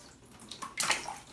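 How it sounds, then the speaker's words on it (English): Fluval biofoam canister filter media being rinsed in water gives a brief slosh and splash, close and moderately loud, with a few soft trickles around it and no talk. "We're gonna go ahead and rinse those in the water."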